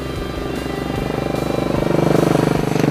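A Royal Enfield Continental GT Cafe Racer engine thumps close by, its rhythmic pulsing beat growing louder and quicker as the bike revs up over a few seconds.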